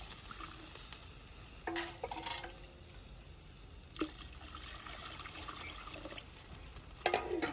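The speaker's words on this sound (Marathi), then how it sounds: "आपण तीन तांबे पाणी टाकून घेणार आहे" Water splashes and pours in a few short bursts into a pan for cooking egg Maggi noodles, with quieter kitchen clatter between the pours.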